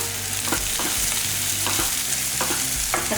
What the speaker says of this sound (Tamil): இந்த வெங்காயம் வந்து ரொம்ப வதங்கணும்னு அவசியம் கிடையாது கொஞ்சம் லேசாக வதங்கினா போதும்